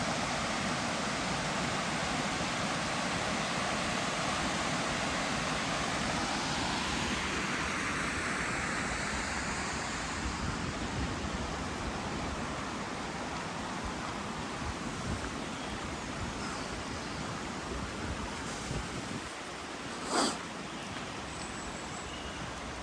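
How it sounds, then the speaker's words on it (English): Steady, broad rush of water pouring over a weir on the Rivelin Valley trail in Sheffield, a continuous close roar for the whole stretch, with one brief knock near the end. "Lovely weir."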